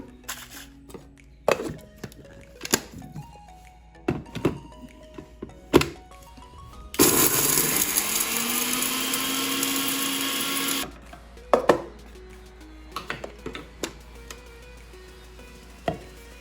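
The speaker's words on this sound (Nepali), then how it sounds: "अब म यसलाई एकैचोटि मसिनो पारेर पिस्छु" A kitchen blender grinds roasted homemade chicken biryani spices into a fine powder in one continuous loud whirring burst of about four seconds, with scattered clatter and knocks before and after.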